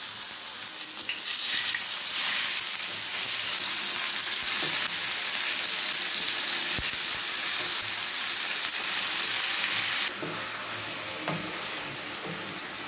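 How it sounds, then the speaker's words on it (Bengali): Marinated chicken pieces frying in hot refined oil, a steady loud bright sizzle with crackling that drops in intensity near the end, with no voices. "তেলটা গরম হয়ে গেছে, আমি ম্যারিনেট করা চিকেনগুলো দিয়ে দিচ্ছি।"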